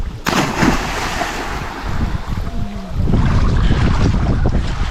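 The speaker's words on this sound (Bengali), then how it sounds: "এখানে কি বাতাস" Strong wind gusting across a village pond on a winter day, with heavy rumbling buffeting on the microphone that grows louder toward the end.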